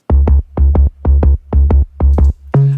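Three stacked synth bass layers of a house drop, including a descending line, a sub and a detuned saw, playing together in loud, tight paired stabs repeating evenly, ending on one held tone; instruments alone, no talking.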